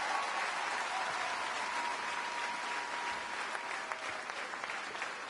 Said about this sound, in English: We get another round of applause from everyone.